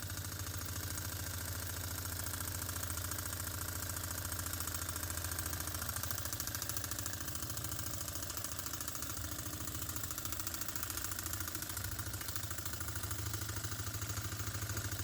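A Cranko No2 oscillating horizontal model steam engine from New Zealand runs on compressed air, giving a faint, steady rapid chuffing rhythm that continues without pause.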